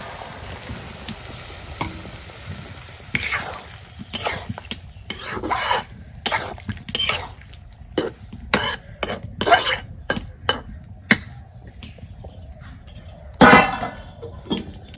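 Fish and eggplant curry being stirred and fried in a pan, cooked village style: a soft background sizzle broken by repeated loud scraping strokes of a spatula against the pan, coming in irregular bursts at close range.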